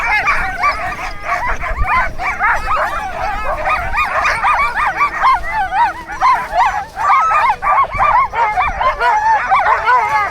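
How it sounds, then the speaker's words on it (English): Sled dogs at an icy Swedish ice hotel bark, yip and whine excitedly before setting off, a loud, dense, overlapping pack chorus that continues throughout. "the dogs were already excitedly waiting"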